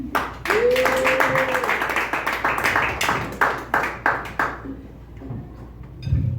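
A comedy show audience claps and cheers for about four seconds, a dense rush of hand claps that gradually thins out and fades.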